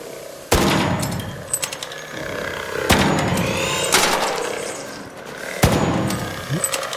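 Arc Raiders gunfire: three heavy, sharp shots spaced a couple of seconds apart, each followed by rattling mechanical clatter and a lingering ring.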